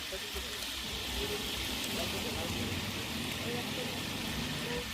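Chicken roast pieces frying in hot oil: a steady, dense sizzle and crackle that runs the full stretch at an even level, like light rain, with no speech over it.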